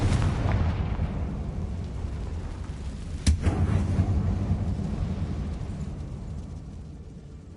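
A Confringo fire spell blasts inside an abandoned mine tomb in Hogwarts Legacy, one sharp explosive burst midway over a steady low rumbling ambience that keeps droning on afterward.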